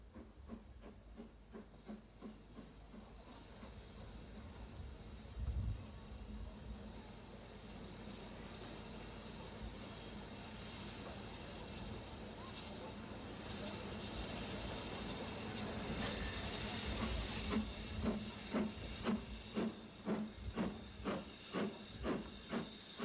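A steam locomotive at the Great Western's London terminus hisses loudly and steadily, then starts chuffing in a quickening rhythm of sharp exhaust beats, heard close among station ambience from 1987.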